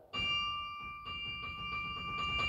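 The smallest bell of a carillon is struck softly, giving clear bright rings with sustained shimmering overtones, followed by several more gentle strikes that layer over the lingering tone, with no voices.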